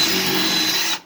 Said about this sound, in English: you take and sporadically drill holes about 3/16 to a 1/4 inch bit